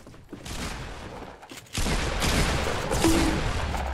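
A rapid volley of gunshots in Fortnite: Battle Royale, with faint shots at first and then a sudden loud burst of sustained firing that carries on to the end.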